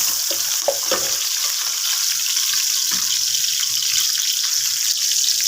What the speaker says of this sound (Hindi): आपने इसमें ये बारीक कटी हुई हरी मिर्चें डाल देनी है। इसको हिला दें इसी तरह।